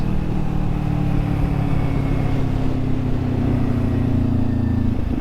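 Motorcycle engine braking with the throttle shut, a steady low rumble and drone that stays loud and continuous as the bike coasts toward a stop, with no voices.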